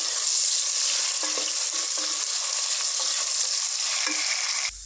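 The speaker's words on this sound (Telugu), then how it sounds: "ఆయిల్ హీట్ అయ్యింది ఇందులో నేను ఒక టూ ఆనియన్స్ ఒక టెన్ మిర్చి వేసుకున్నా ఫ్రెండ్స్ ఇవి ఫ్రై చేసుకుందాం" Two onions and about ten green chillies frying in hot oil for a Telangana-style boti curry, giving a steady, dense sizzle with a few soft stirring clatters, close and continuous with no talk.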